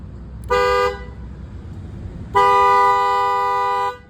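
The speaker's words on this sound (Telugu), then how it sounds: "వచ్చింది కదా హార్ను" A car horn blares twice nearby during a wiring repair test, first a short honk, then a longer held blast of about one and a half seconds, over a low background hum.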